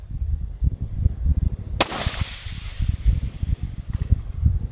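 A single sharp crack of a budget rifle firing at a long-range white target, heard once over wind rumble, followed by a faint distant echo a couple of seconds later.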